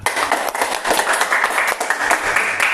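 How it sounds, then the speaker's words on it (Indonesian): Applause from a group at a training or exam session, brisk dense clapping close by filling the whole stretch with no talk. "tepuk tangan sila"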